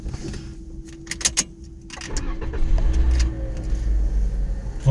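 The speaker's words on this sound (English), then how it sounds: "Get your car started." A car is started during a driving lesson: clicks and rustles in the cabin, then the engine cranks and settles into a low, steady idle that grows louder toward the end.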